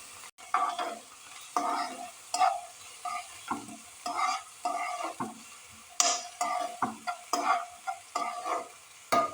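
Onion, garlic, ginger and green chilli frying together in a pan for a crab thoran, with a spoon stirring in repeated scraping strokes over a steady sizzle, close and fairly quiet.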